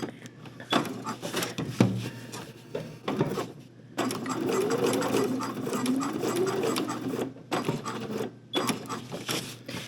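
Sewing machine restitching old seams on a Cavalcade Traveler overnight bag, running in bursts with short pauses between, close and fairly steady, its motor hum and needle clatter carrying on alone.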